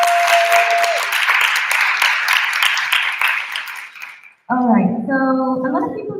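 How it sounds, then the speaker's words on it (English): Audience at an IVSA veterinary students' congress in Peru gives a dense round of applause that fades out, then a short chime-like tone sounds over light background voices. "so clap for them, please."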